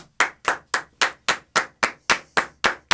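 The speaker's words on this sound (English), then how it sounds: "Come on, Andy, let's record some claps." Hand claps recorded as a stereo demo: eleven sharp, close claps in an even rhythm of about four per second, each with a quick fading tail, and no voices.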